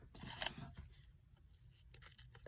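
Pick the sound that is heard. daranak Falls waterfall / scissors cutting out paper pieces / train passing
scissors cutting out paper pieces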